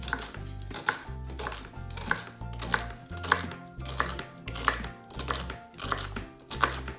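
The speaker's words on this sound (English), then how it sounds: "Celery will be next. We're just gonna trim off the end." A knife chops through celery on a cutting board in a steady run of crisp, evenly spaced strikes, about ten sharp thuds close up with faint crunching between them.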